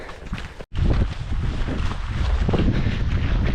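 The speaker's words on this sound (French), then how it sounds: "On a le vent qui monte déjà là." Wind rising over the mountain crests of the Cantal during a trail run, gusts buffeting the microphone in a loud, rough roar, briefly cutting out then blowing steadily again.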